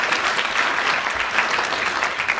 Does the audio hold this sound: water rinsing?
no